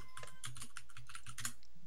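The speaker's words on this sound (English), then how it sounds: "Who's clacking their keys?" Rapid clacking of computer keyboard keys in uneven bursts of typing, close and fairly quiet, with no talk over it.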